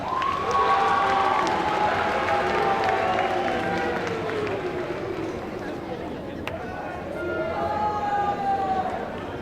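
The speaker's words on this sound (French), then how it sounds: "Je vous laisse l'applaudir bien fort." An audience applauding at a geek convention's singing and dancing contest, dense sustained clapping and cheering from a crowd, with a song's melody running underneath.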